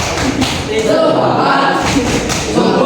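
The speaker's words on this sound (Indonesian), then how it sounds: "1, 2, 3, tepuk semangat." A classroom group performs a rhythmic clapping cheer in a teacher's lesson, with loud, close thumping claps in short patterned bursts amid voices.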